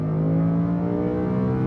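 A Lamborghini Huracán engine under full power on a track, a dense, steady mechanical drone with layered harmonics, moderately loud and close, with no talking.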